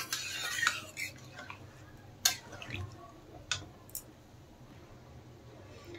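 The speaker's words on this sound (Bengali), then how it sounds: "এখন ভালোভাবে নেড়েচেড়ে মিশিয়ে দেব" A spoon stirs a paneer curry with fried capsicum in a pan, giving sporadic metallic clinks and scrapes over a low background hum. The sound is close and fairly quiet, with no talking.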